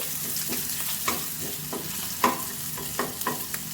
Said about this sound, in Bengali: তেলটা গরম হয়ে গেলে এতে আমি কালো জিরে ফোড়ন, রসুন দিয়ে একটু নেড়ে ফেড়ে নিয়ে